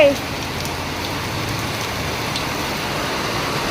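Heavy rain pours down in a dense, steady hiss with no pauses, drumming evenly on surfaces nearby.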